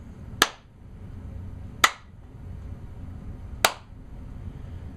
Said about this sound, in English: while you're looking at it, is clap.